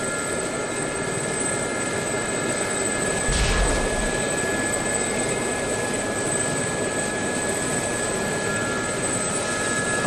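An Sa-342 Gazelle helicopter flies in the DCS combat flight simulator, its turbine whine and rotor drone steady and loud throughout, with a brief thump partway through.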